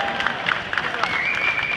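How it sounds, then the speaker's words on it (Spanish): Crowd applause at a Peru festival gathering in Miami, a dense patter of clapping lasting under two seconds, mixed with a voice speaking over it. "¡Aplausos!"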